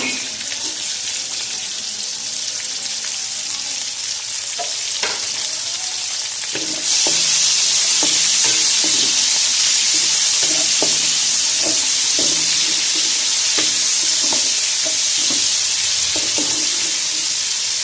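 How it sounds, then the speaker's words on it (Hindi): Chopped onions hit leftover ghee in a pan, the soft background sizzle jumping into a loud, bright hiss, while a utensil clacks and scrapes in a steady rhythm as they are stirred. "इसी के बाकी बचे घी में हम शामिल करेंगे प्याज।"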